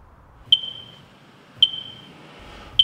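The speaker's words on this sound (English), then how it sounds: "educate everyone on the different sounds that smoke and carbon monoxide detectors make" Three sharp high-pitched beeps from a smoke detector, evenly spaced about a second apart, each a short piercing tone that fades quickly, in an otherwise quiet room.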